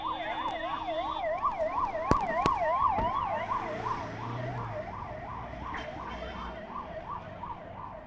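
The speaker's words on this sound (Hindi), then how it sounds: "आप देख सकते हैं लगातार यहाँ पर एम्बुलेंस पहुँच रही हैं" Ambulance siren wailing in rapid, regular up-and-down sweeps at the scene of a major road accident, fairly loud and continuous, with traffic noise and a few sharp knocks underneath.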